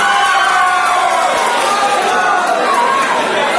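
A large crowd at a public oration in Aceh cheers and shouts in a loud, dense roar that fills the space, with a voice mixed into the din.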